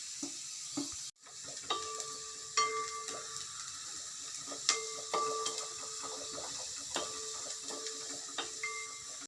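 Onion sautéing in a pan gives a soft, low sizzle broken by sharp metallic clinks and taps of a utensil against the pan, recurring irregularly, close and without talk.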